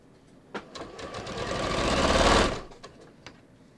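A sewing machine runs in one sustained burst of rapid stitching, sewing a stretched knit strip onto a garment neckline; brief clicks and taps of fabric handling come before and after, with no talk.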